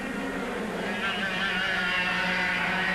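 Racing karts in a 1996 Formula Super A race in France drive through corners, their high-revving engines giving a steady, dense buzzing drone that holds throughout at a distance.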